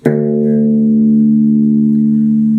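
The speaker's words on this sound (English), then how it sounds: "tune your 6th string down till it sounds like this." A single low note on a guitar's sixth string tuned down to drop D is plucked and left to ring, sustaining loudly and evenly for a couple of seconds.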